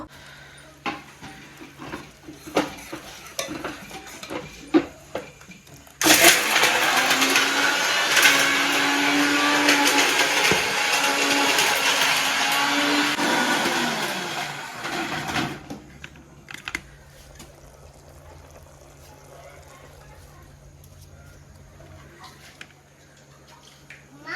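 A kitchen mixer grinds a masala of cinnamon, cloves, coconut, tomato and gram for a fish sambar, a loud steady whirring that runs for about ten seconds between quieter stretches of room noise.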